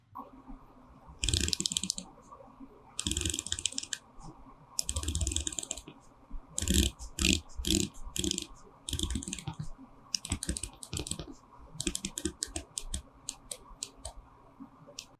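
The ceramic bezel of a Seiko SPB509 watch is turned by hand, giving runs of crisp, close ratcheting clicks in irregular bursts over a quiet room background.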